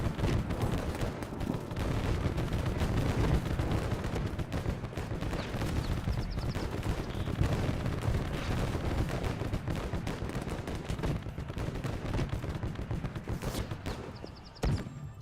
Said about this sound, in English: Oh, there's somebody shooting in this direction.